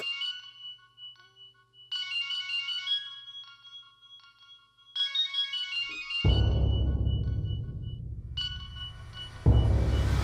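A phone ringtone sounds in a Bengali TV serial scene as several short bursts of tonal ringing, followed by a loud swelling wash of dramatic background sound.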